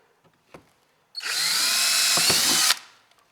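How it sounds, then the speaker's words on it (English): A power drill whirs steadily for about a second and a half, starting abruptly and cutting off with a brief grinding catch near the end, close by, drilling a mount hole on a 2017 Hobie Outback kayak. "we're going to go ahead and drill our back mount"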